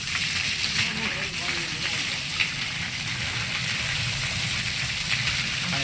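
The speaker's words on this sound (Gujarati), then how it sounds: "હા અહીંથી પાણી પછી નદીમાં વહી જાય." Water running out from Droneshwar Mahadev temple toward the river makes a steady, dense rushing flow that stays loud and even throughout, with a voice talking over it.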